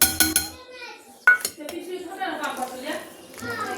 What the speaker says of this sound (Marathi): हलवून घेते असे ह्याला.